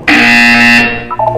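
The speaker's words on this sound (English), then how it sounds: "You will hear a buzzer." A loud electronic buzzer tone from the video game Portal 2 sounds steadily for under a second, then breaks into a few short chirping beeps.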